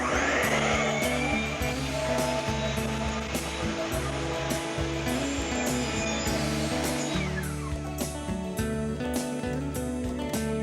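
A Bosch miter saw spins up with an Oshlun laser washer mounted on its blade, a loud steady motor whine that holds, then shifts in pitch as it winds toward the end.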